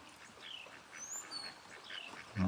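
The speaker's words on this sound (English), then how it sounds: "the ducks are enjoying themselves" Farm ducks quack repeatedly in a steady rain, the calls fairly faint and scattered over the hiss of falling water, with a low thump at the very end.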